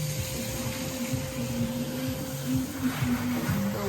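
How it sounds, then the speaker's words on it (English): A vacuum cleaner hoovers new floors during a home renovation, giving a steady, unbroken motor drone with a faint whine throughout. No voices. "Okay, you can hoover a second."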